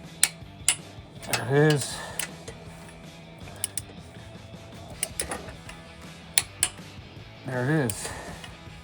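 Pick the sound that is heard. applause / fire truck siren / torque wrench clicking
torque wrench clicking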